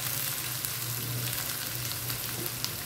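Onion and garlic frying together in hot oil, a steady close sizzle with soft crackles and a faint low hum beneath, no voices.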